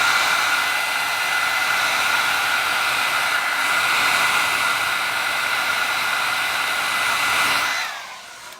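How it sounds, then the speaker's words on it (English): A hair dryer blows steadily on a lace wig, a loud, close, continuous whoosh that cuts off near the end. "I'm going to get my dryer and"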